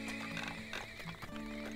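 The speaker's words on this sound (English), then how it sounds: "Oh god, horses." Horses in the video game Turmoil neigh and whinny over clip-clopping hooves, several bright whinnies in close succession against low game background, no talk.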